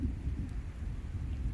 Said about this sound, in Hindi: अभी भी गर्जना हो रही है इस प्रकार से, बिजली कड़क रही है